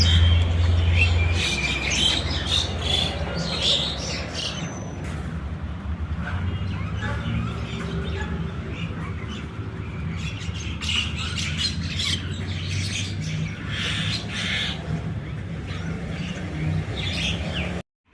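Myna birds chatter, squawk and chirp repeatedly at close range while feeding, a busy overlapping mix of calls with a voice speaking now and then.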